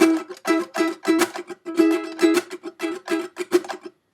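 Acoustic guitar strum pattern played up to speed, a steady rhythm of alternating soft and loud down-and-up strokes with short pauses between bursts, close and alone with no talking.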